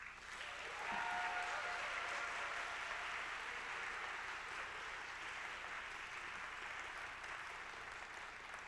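An audience at a Carleton College convocation applauds as the speaker is welcomed to the stage, a steady even patter of many hands clapping that holds at a constant level.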